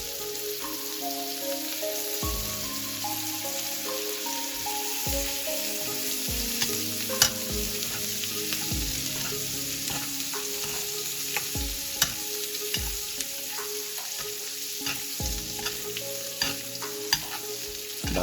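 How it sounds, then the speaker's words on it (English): Tenderstem broccoli fries in butter in a pan used for a wagyu sirloin steak, giving a steady close sizzle with frequent clattering stir and toss knocks. "Straight into the same pan goes the tenderstem. Don't waste that butter."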